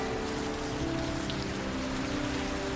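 Steady, dense rain falling on surfaces in the Old Skies adventure game, an even wash of drops at moderate volume with a faint low tonal hum underneath and no talking.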